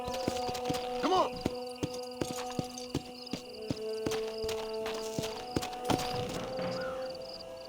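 Horse hooves clip-clop in the Western video game Red Dead Redemption, a steady, evenly spaced run of sharp beats under sustained tonal game sounds.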